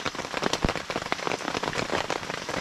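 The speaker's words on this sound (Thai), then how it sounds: "ตอนนี้รู้สึกว่าฝนเบาลงแล้วนะครับ" Rain falls steadily on surfaces at a campsite, a dense close patter of countless drops with occasional louder individual splats, continuous and alone without voices.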